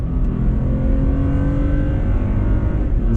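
A Toyota Tacoma TRD Pro pickup with the pedal floored outside sport mode, its engine a loud, steady, low rumbling drone heard from inside the cab, holding without a clear rise in pitch.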